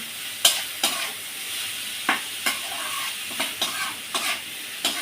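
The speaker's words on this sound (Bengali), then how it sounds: "একটু ভাজা ভাজা করে নিতে হবে" Rohu fish pieces stir-fried with salt and turmeric sizzle steadily in a pan, punctuated by about ten sharp scraping strokes of a spatula at an irregular, fairly quick rhythm, close and clear with no talking.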